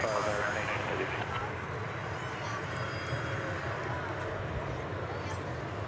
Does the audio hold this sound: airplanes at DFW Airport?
yes